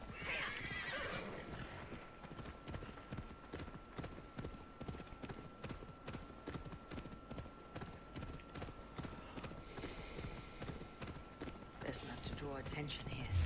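Video-game horse in a medieval battle against Mercian soldiers, with steady clip-clop hooves and a loud neigh near the start, over continuous fighting noise while a voice talks.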